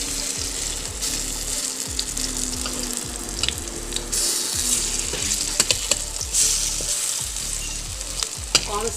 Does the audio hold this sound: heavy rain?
no